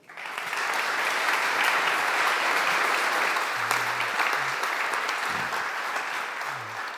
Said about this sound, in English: So please welcome our speakers with a round of applause.